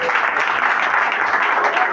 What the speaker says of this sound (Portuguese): Quem vai aplaudir a Jesus de Nazaré?